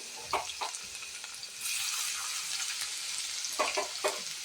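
Chivda with garlic cloves roasting in a pan: a steady, moderately loud sizzle with a few scraping stirs of a spoon near the start and end, no voices.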